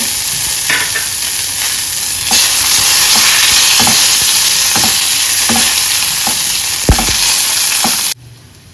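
Curry leaves, green chili and garlic frying in hot oil for a dal tempering, a loud continuous sizzle with occasional spoon scrapes and stirring knocks, cutting off abruptly near the end.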